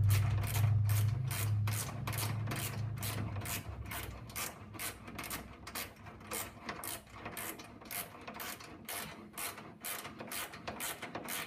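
Socket ratchet tightening a caster bolt: a steady train of sharp, close clicks repeating at an even rhythm throughout, with a low mechanical hum at the start and no voices.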